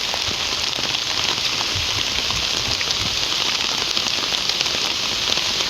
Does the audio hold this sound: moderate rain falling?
yes